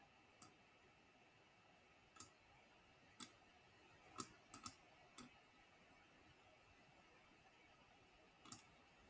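Sharp computer mouse clicks while a shape is placed on a Canva canvas, about eight isolated taps spaced irregularly with a few quick doubles, close and quiet against a silent background.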